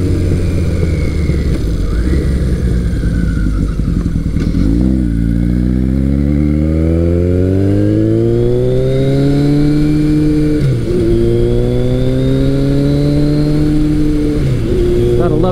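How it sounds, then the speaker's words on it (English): A Kawasaki KZ1000 motorcycle with a Delkevic exhaust at full throttle, loud and close, climbing through the gears with rising engine pitch, brief dips at each shift, then pulling hard again under wind noise. "Gotta love the sound from that Delkevic exhaust."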